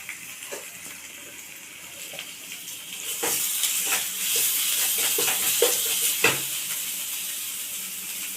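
Nigella seeds spit and crackle in hot oil for tempering, the sizzle rising midway with sharp pops and utensil taps.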